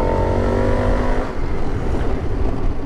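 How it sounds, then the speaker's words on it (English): A 2022 Harley-Davidson Pan America, a 150-horsepower adventure motorcycle, is ridden off-road with its engine loud and close, a steady throaty drone that eases briefly midway and then picks back up under wind rush. "150 horsepower adventure bike, how this thing gets along off-road"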